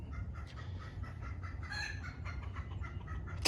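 Chickens on a farm, a close steady chorus of low clucking and murmuring calls from several birds, continuous over a constant low background hum, with no talking.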